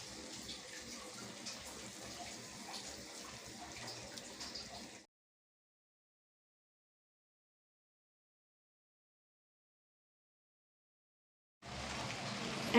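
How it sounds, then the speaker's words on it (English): Water pouring into a pot of dal makhani, a steady splashing stream that stops abruptly partway, then resumes briefly near the end. "Add water."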